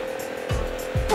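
Harley-Davidson Pan America motorcycle engine revving up under a rider, a steady drone with two quick rising throttle surges, close and fairly loud.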